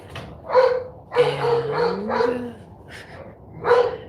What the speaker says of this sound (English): if the neighbor's dogs will behave long enough